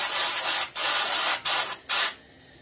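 Spray paint is airbrushed onto a skin-mounted bluegill fish in bursts: two long hissing sprays, then two short ones, each ending cleanly, close and loud.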